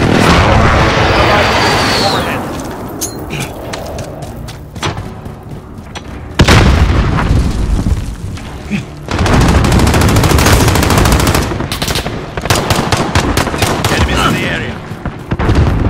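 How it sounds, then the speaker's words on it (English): Airstrike explosions and heavy gunfire in Call of Duty Modern Warfare (2019), a video game: loud booms and rapid machine-gun bursts fill the scene, easing briefly midway before another long barrage, with radio-style announcer voices over the battle. "Allies receive an airstrike incoming."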